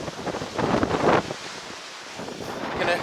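Gusty wind buffets the microphone on the Pacific coastline at Fort Ross, California, a loud rushing roar that surges and eases over a few seconds, with faint surf underneath and no talking.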